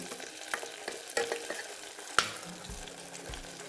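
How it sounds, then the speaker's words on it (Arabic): Quiet stirring of blended, strained fresh tomatoes in a frying pan, with soft scrapes and taps over a faint sizzle. "هقلبهم كده"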